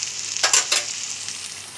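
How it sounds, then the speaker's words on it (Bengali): Cornflour slurry stirred into a pan of dry chilli paneer, giving a steady close sizzle with a few short scraping bursts of stirring, alone without voices. "সেই কর্নফ্লাওয়ারটা এর মধ্যে মিশিয়ে দেব"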